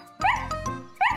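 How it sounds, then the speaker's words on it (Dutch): A cartoon dog barks happily, two short bright yips close together followed by a third after a pause, near and clear. "Ze kwispelt met haar staartje en blaft vrolijk."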